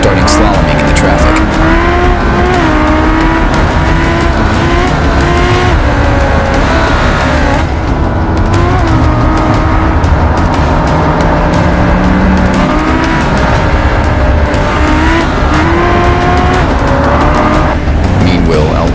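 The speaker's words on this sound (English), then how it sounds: "He had his foot on accelerator, starting slaloming in the traffic." An overpowered supercar roars continuously in Italy as it accelerates and weaves through traffic, the loud engine note rising and falling with shifts, with occasional tire squeal and passing traffic around it.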